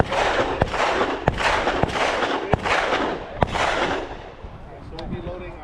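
Pistol shots ring out at an outdoor shooting range during a concealed-carry skill drill, about five sharp reports spaced roughly evenly over a steady wash of noise, then the firing stops and quieter sounds follow.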